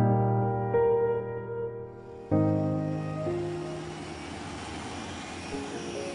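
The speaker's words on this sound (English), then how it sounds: "pilot Stu Campbell, no relation to Donald, tests out the engine as Bluebird continues her relaunch trials on the Isle of Bute in Scotland." Engine of the Bluebird hydroplane run on test during relaunch trials on a loch on the Isle of Bute, Scotland, a steady droning roar that surges twice and grows into a broad rushing noise, moderately distant with no talk.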